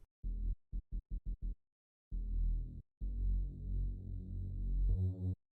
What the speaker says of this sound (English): I think it was a bass was actually a preset sound.